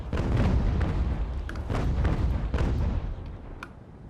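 Broadside cannon fire from a sailing warship's port battery in an age-of-sail naval battle, a dense run of deep booms and rumbling blasts overlapping for several seconds, loud and close, then fading.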